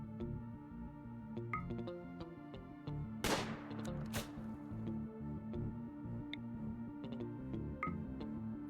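Rifle gunfire in the game RimWorld, a couple of sharp loud shots over steady background music with faint ticking game sounds.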